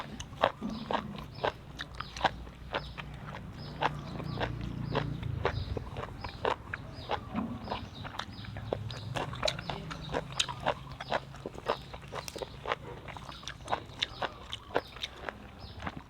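A person eats a crunchy dish of raw beef with bitter dipping sauce up close, with repeated crisp bites and steady chewing throughout.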